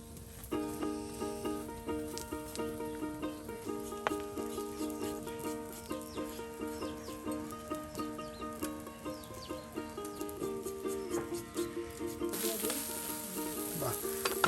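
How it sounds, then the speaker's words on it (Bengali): Eggs fry in a pan with a soft, continuous sizzle, largely buried under louder tonal music that plays throughout. "এই যে ডিম ভাজা হয়ে গেল"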